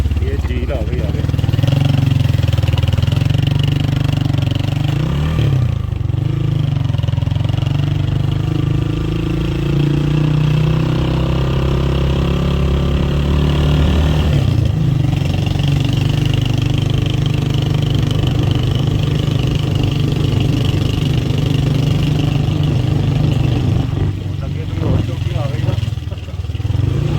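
Motorcycle engine running steadily on a mountain road near a lake in Leepa Valley, a loud, close, continuous drone with rising and falling revs through the whole stretch, while people talk over it.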